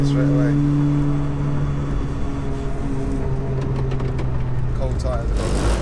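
A 607bhp SEAT Leon Cupra on a track spins its wheels on cold tyres, the engine droning loudly at steady pitch before shifting and fading, with scattered voices under the noise.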